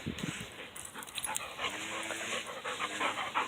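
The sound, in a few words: black labrador dogs panting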